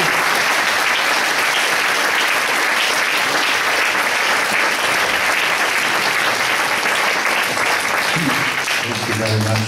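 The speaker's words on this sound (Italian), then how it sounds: "Facciamo un applauso." Sustained audience applause at an event, dense and steady throughout, with a voice beginning to speak near the end.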